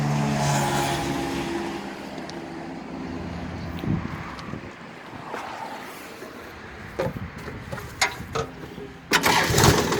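Kubota 36 hp tractor from 2011, fitted with an aftermarket performance exhaust, cranks and starts at close range. Engine noise runs steadily throughout, with sharper bursts near the end.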